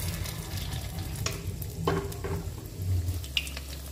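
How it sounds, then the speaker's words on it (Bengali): Bread rolls coated in cornflour slurry deep-frying in oil, a soft continuous bubbling sizzle with a low hum underneath and a few faint stirring clicks, fairly quiet. "এটাকে আমি ডিপ ব্রাউন করে ভেজে নেব।"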